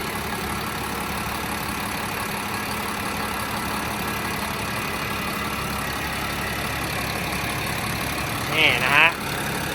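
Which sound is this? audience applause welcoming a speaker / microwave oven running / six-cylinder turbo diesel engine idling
six-cylinder turbo diesel engine idling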